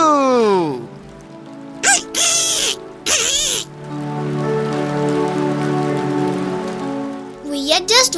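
Heavy rain hisses steadily during a flood, a dense wash of noise heard under tonal, animated-sounding voices and sound effects that break in at the start and end.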